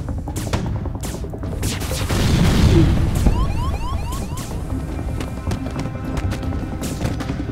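Ship weapons firing in the video game Faster Than Light, a dense cluster of sharp electronic shots and bursts, with a brief swell of rumbling impacts and a run of zapping laser-like pulses, steady and fairly loud throughout.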